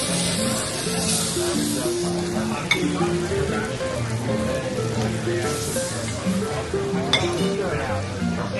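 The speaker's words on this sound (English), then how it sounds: "Nice and sizzle." Meat sizzling and frying on a Korean barbecue grill, a steady crackling hiss with occasional clinks of utensils, heard under nearby conversation and restaurant music.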